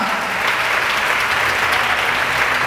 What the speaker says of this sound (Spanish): Dale fuerte el aplauso y fuerte la alabanza.